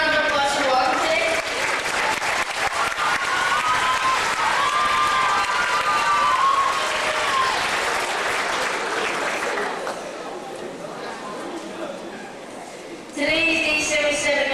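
An audience at a Kris's Wish walk event in Port Colborne bursts into sustained clapping with some cheering, which tapers off toward the end while a voice speaks over it.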